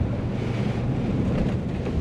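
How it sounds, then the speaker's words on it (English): Strong wind on a windy day at a rallycross track buffets the microphone in a constant, heavy roar. The low rumble runs unbroken and covers everything else, with no voices. "It's a super windy day."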